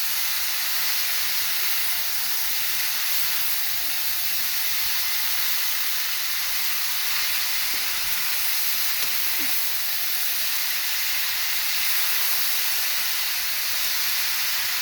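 Chayote curry frying in a pan, a steady, loud, bright sizzle and hiss that holds unbroken for about fifteen seconds, close up with no talk.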